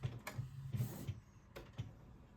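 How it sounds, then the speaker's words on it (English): Canon Pixma TS8351 inkjet printer printing a sticker sheet: faint mechanical whirs and soft clicks as the print head shuttles and paper feeds, with brief higher zips between quieter pauses. "Right, now the sticker sheet is printing out."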